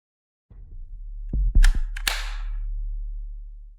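Air pistol shots at a women's shooting competition: a few sharp, close cracks in quick succession over a low steady hum, with no talking.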